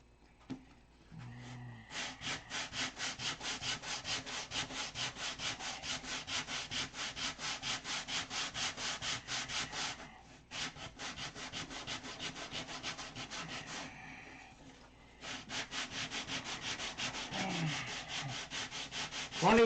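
Balsa parts of a control line model aircraft being sanded by hand, a steady run of rhythmic back-and-forth strokes with two short pauses, close and loud.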